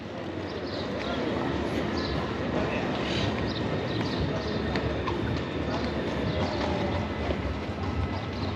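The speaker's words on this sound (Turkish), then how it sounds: "Burada da fayton kültürü çok." Hooves of a horse-drawn carriage clip-clop on a street in Seville, a steady rhythmic clatter set in busy outdoor city noise.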